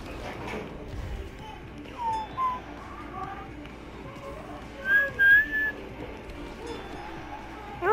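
Whistling in the Lego Marvel Superheroes 2 game comes as short, faint rising tones in scattered bursts over a soft background.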